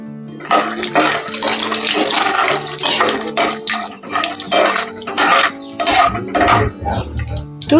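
Peanuts fry in hot oil in a pan, making a loud, close, continuous sizzling crackle. The sizzle surges and dips in waves, with no speech over it.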